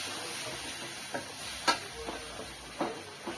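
Oil sizzles steadily as tomatoes and onions fry in a pan, with a few clicks and scrapes of stirring scattered through, close and moderately quiet with no talking.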